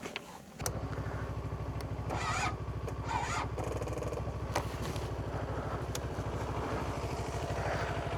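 A vehicle stopped at night in the middle of a forest cranks without catching, its starter churning in a steady, rapid, loud rhythm that runs unbroken for about seven and a half seconds.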